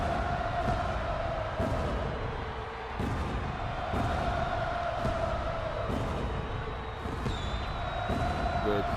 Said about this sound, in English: But listen to this reception that Seth is getting here in the crowd from Cleveland.